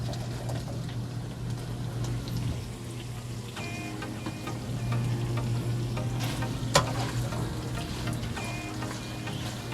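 Fried tofu and chicken liver stirred in a pan with oyster sauce, a steady frying sizzle with scraping and clinks of the utensil, one sharp knock near the end, no talking.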